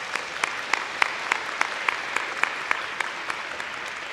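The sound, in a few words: audience applause for the madrigals at an awards day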